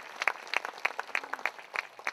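Applause from a lecture audience, with sparse individual claps in a loose, uneven rhythm, fairly quiet and heard without any speech over it.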